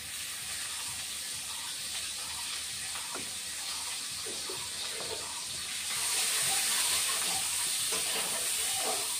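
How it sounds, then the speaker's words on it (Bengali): Onion sizzles in hot oil for a Bengali fish curry, a steady close hiss and crackle that grows louder and brighter partway through. "ওই তেলের মধ্যে পেঁয়াজ দিয়ে দিয়েছি বন্ধুরা।"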